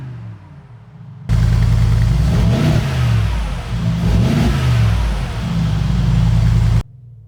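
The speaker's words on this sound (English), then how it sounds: "the V8 bi-turbo in the G63 also has its unique, distinct sound, and I absolutely love the way this thing sounds" A brand-new Mercedes-AMG G63 with its V8 bi-turbo engine revs hard and loud up close, holding a deep, steady roar for several seconds with a couple of surging swells before cutting off abruptly.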